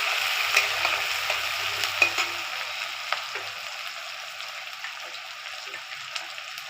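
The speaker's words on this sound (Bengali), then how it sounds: "লাল লাল করে ভাজতে হবে।" Pointed gourd masala fries and is stirred in a pan, giving a thin steady sizzle with scattered light clicks and scrapes from the spoon, close by and with no talk.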